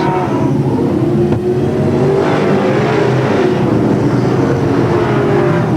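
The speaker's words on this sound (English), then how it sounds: "The faster cars going round the outside of the lap cars." Sedan race cars lapping the Newcastle Motordrome at a 1988 NSW Grand National Sedan Championship, a loud continuous engine drone with steady revving, close and dense, with no voices over it.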